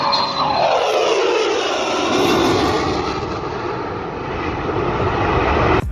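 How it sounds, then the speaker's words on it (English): An F-35 fighter jet pulls a hard turn at an airshow, its engine a loud, continuous roar with a rising and falling whoosh as it banks past, with no voices. "This F-35 doing a hard turn at an airshow."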